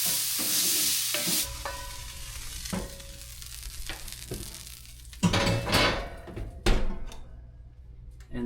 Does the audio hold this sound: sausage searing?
yes